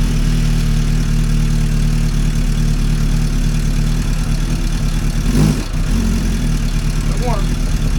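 A Suzuki Bandit 600 motorcycle engine idles loud and close, a steady low rumble throughout with a brief blip midway, while people talk over it.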